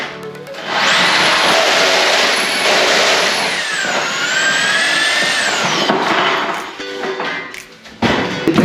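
A power drill bores into a ceiling in a bedroom under renovation, a loud steady whine with a rising and falling pitch holding for several seconds before winding down, followed by a brief knock.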